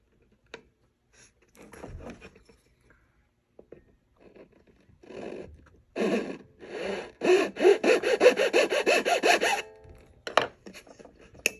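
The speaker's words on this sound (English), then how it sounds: "To make the little notches for the string saddle, I have a little triangular file." A small triangular file rasps back and forth across a wooden saddle on a homemade box ukulele, cutting string notches in quick strokes that start sparse and build into a dense, rhythmic run before stopping.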